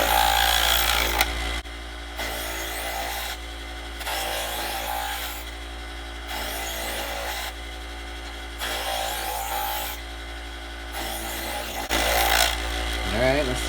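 An electric knife sharpener buzzes steadily as a blade is drawn through it, its vibrating drone swelling and easing in long strokes, close and fairly loud, with short pauses between passes.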